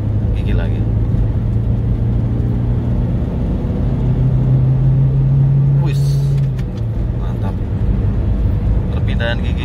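A 1995 Mitsubishi Lancer GLXi sedan pulls in a higher gear after an upshift, its engine a steady loud cabin drone with a rising tone midway, heard from inside the car.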